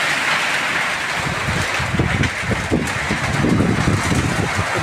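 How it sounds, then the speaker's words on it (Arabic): Heavy winter rain pours down outside a farm, a loud, steady wash of patter on surfaces with no break across the few seconds. "شوفوا الشتا تبارك الله."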